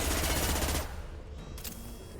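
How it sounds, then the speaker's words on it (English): Sustained bursts of rapid gunfire in a Mass Effect 2 firefight, loud and dense for the first second, then dropping to a lower-level rumble of continued shooting with a couple of brief flares. "I'm taking heavy fire."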